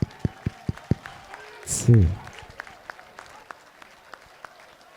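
Sparse, separate hand claps from a conference audience at the 2022 NANTA travel agents' AGM ring out for a speaker, with a short louder burst and a voice midway, then thinning to scattered faint claps.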